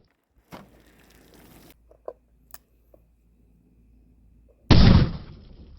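A .454 Casull round, a 300-grain Hornady XTP, is fired outdoors at water jugs. A sharp burst and faint ticks come first, then one loud, booming shot near the end that decays quickly.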